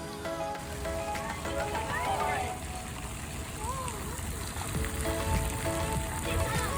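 Steady rain patters outdoors near the Capitol in Jefferson City, a continuous wet hiss running beneath people talking throughout.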